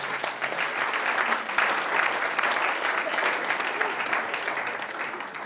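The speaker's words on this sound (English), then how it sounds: "Let's give him a round of applause" Steady applause from a training-session audience in a room, rewarding a participant named Safir for his answer, sustained and fairly even for several seconds with no talk over it.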